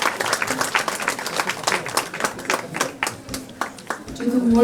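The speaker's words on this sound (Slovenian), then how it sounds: "v tem lahko še en aplavz za oba prejemnika" An audience at a memorial ceremony applauds two award recipients with a few seconds of steady, moderately loud clapping from many hands, and a voice speaks faintly at the end.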